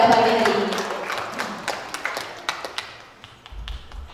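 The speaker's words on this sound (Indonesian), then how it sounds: "Beri tepuk tangan untuk narasumber kita pada pagi hari ini" Applause for the morning's speakers at an art inventory workshop, loud clapping at the start that thins into scattered individual claps and fades over a few seconds, with no talk.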